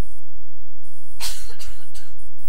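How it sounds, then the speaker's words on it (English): A few short, harsh coughs close to the microphone, clustered together over a quiet background. "You're going to hear me coughing."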